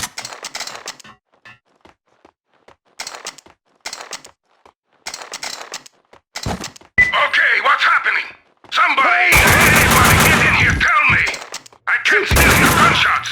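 Max Payne 2 game gunfire: after quieter, speech-like stretches, loud sustained bursts of shooting erupt near the end, with short gaps between volleys.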